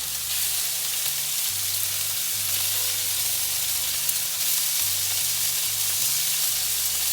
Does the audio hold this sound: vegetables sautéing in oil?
yes